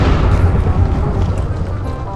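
A Minecraft explosion set off while opening lucky blocks: a heavy, rumbling boom that rolls on for a couple of seconds, loud and deep, with a crackling tail and no clear gaps.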